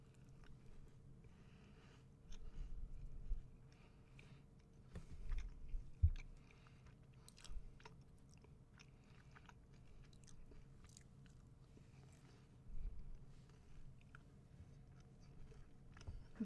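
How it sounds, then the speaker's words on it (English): Quiet, close bites and chewing on a crunchy layered pastry such as baklava, with several separate crunchy bursts spread out between softer mastication sounds. "when you bite into it, it feels like you're biting through layers"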